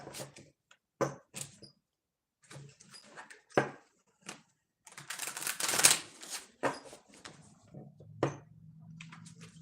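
A deck of tarot cards is shuffled close up in irregular bursts of riffling, slapping and sliding, with short pauses between handfuls and a low steady hum in the later part.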